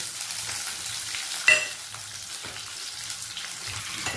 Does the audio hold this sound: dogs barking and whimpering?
no